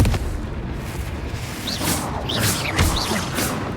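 Booming spell blasts from a Confringo cast in the video game Hogwarts Legacy, several explosive bursts in quick succession with whooshing effects over loud game noise.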